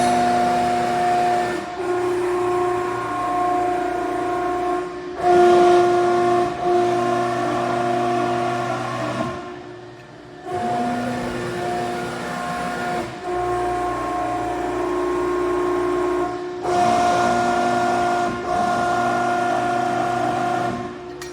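A Cincinnati 175-ton by 12-foot hydraulic press brake runs with a loud, steady tonal whine and hum, dipping and surging in repeated stroke cycles every few seconds, with no voices.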